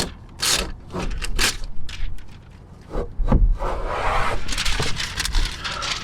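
An adhesive backing strip is peeled off a MOLLE panel pressed against a Jeep Gladiator hard top, giving close, dry tearing and rubbing sounds in short bursts, then one longer, steady peel.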